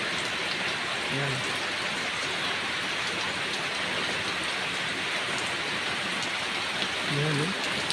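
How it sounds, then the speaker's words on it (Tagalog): Heavy rain pours steadily and loudly in the open, a dense unbroken hiss that holds from start to finish, with a couple of brief low murmurs rising out of the wash. "Sobrang lakas ng ulan mga idol"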